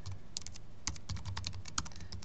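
Typing on a computer keyboard while building a web page, a quick irregular run of light, close key clicks at low volume with no talking.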